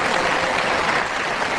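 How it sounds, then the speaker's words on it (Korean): A large church audience gives sustained, dense applause for a 2,000-voice choir, orchestra and conductor, a loud even wash of clapping filling the hall without a break. "지휘자 모두 하나님께 감사하며 영광의 박수를 다시 한번 뜨겁게 돌려드리겠습니다."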